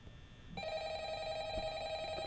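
Inside the FNAF VR BoneLab mod, a game telephone starts ringing with a steady electronic trill that holds at an even level, faint and alone, after a brief muffled start.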